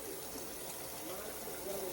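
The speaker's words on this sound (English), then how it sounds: "We're going to go ahead and run some cold water on that." Cold tap water runs onto eggs in a pot in a small kitchen, a steady, moderately quiet gushing stream with faint voices underneath.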